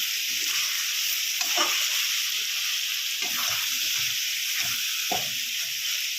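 Kadai chicken with Kashmiri chili powder frying in a little oil, a steady close sizzle broken by repeated scraping stirs at irregular intervals.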